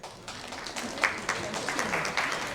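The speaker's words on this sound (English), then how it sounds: "Can you have a huge round of applause for Ms." An audience gives applause for speaker Priya at a workplace culture talk, moderate clapping that swells after a quiet start and continues in a loose, uneven patter, not very loud.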